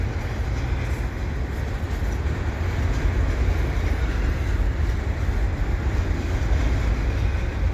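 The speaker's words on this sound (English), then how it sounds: "I'm keeping my eye on these CP trains to see if I can get some special paint schemed locomotives" An eastbound CP stack freight train rolls past at Dorval in winter, a steady loud rumble and rail clatter holding evenly throughout with no break.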